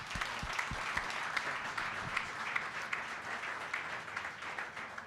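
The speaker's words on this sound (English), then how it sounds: "Let's give Darrell a round of applause." An audience applauds at a community coalition meeting, with steady, fairly quiet clapping that holds for several seconds, a few low thumps near the start, and no clear talk over it.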